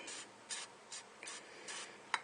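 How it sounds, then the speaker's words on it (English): Several short hissing bursts of silicone spray on a 2001 Dodge Dakota 4.7L's lower radiator hose area, about half a second apart, close by and fairly quiet, ending with a sharper clatter. "Put a little silicone spray down there."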